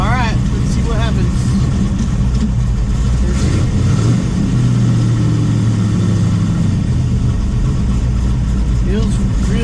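A 1968 Nova SS with a four-speed Hurst shifter and new clutch runs close by, its engine rumbling steadily and revving up and down, with a person talking over it.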